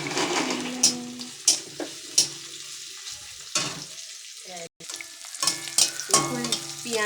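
Onion frying in oil in a pan for a bottle gourd peel mash, a steady close sizzle broken by sharp stirring scrapes and clinks at uneven intervals.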